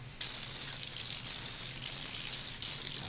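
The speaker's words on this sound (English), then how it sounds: "I'll wet my blade here." Tap water runs steadily from a kitchen faucet onto a knife blade during garlic prep, a continuous close hiss that starts abruptly and holds for about three seconds with no talking.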